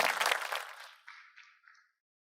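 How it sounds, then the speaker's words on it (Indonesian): Applause at a solar panel inauguration event for PT Indo Kordsa, a brief, fairly faint burst of clapping that fades out and trails off with a few scattered claps within two seconds. "mari kita berikan tepuk tangan sekali lagi yang meriah"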